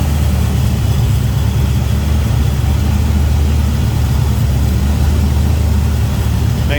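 A 1940 Chevrolet coupe's 355 V8 with headers, a Holley intake and a Demon 650 carb idles in a steady, deep low rumble, loud and even throughout with no talk.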